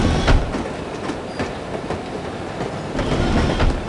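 A train rolls along rails in the video game The Operative: No One Lives Forever, with a loud, steady rumble and regular clickety-clack wheel beats at a close, constant level and no voices.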